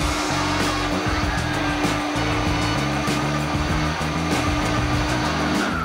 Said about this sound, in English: As the mix is blending, slowly trickle in the melted chocolate.